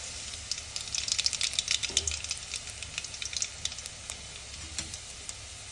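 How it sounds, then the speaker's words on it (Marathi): Garlic and mustard seeds fry in hot oil for a Makar Sankranti Bhogi dish, giving a steady crackling sizzle with small pops at moderate volume and no talking. "तेल टाक तापलंय आता त्यात लसूण टाकते मी त्यानंतर थोडीशी मोहरी टाकू"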